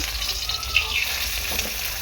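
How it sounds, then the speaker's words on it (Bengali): Fish fries in a pan with a brief, steady, moderately close sizzle and crackle. "এদিকে মাছ ভাজাটা আমার হয়ে গিয়েছে"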